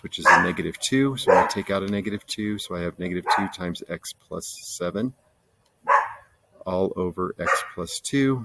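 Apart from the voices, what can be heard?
dogs barking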